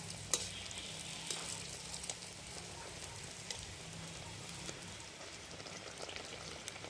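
Steady, soft sizzling of malpua batter frying in oil, a continuous crackle with small pops, fairly quiet and without voices.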